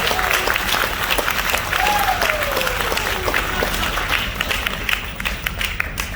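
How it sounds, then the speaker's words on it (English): An audience at an Alaska songs-and-stories show gives loud, dense, sustained applause, with a few whistles rising through the clapping. "Hear all that applause, Mike?"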